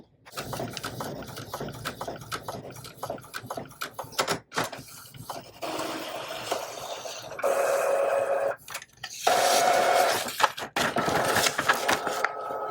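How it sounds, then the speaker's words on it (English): Epson EcoTank ET-15000 printer running a print head nozzle check, a faint busy mix of mechanical whirring, clicks and sliding carriage movement that shifts in pitch and level throughout, with a few short pauses. "Perform print head nozzle check."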